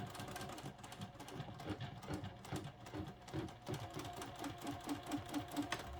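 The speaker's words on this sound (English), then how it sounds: "You probably want to do a double row of stitches here as well to really reinforce your seam." Sewing machine stitching a seam on a boxy fabric pouch, a steady close mechanical chatter of rapid needle strokes running throughout at moderate volume.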